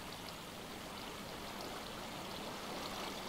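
Water cascades steadily in the Minecraft video game, a constant soft rushing and splashing that stays even and faint with no one speaking.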